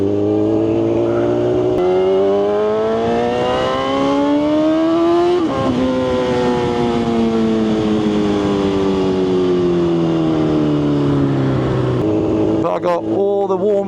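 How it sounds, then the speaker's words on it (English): Motorcycle engine running steadily while riding on a cold day, its harmonic drone rising and falling with throttle and gear changes, one clear shift partway through, loud and close throughout with wind rush and talk over it. "the bike seems to be running lovely"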